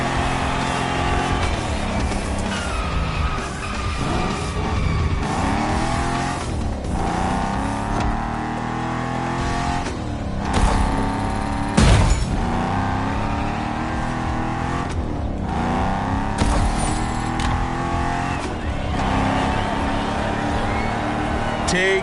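A first-model Shelby GT500 lapping in a racing video game, its engine droning steadily with rising and falling revs and brief louder bursts, close and continuous, with voices talking over it.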